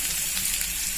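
Chopped onion and a small piece of ginger fry in coconut oil in a pan, giving a steady, even sizzle with a soft crackle that stays constant throughout.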